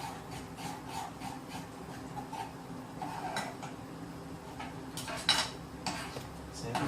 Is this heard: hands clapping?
no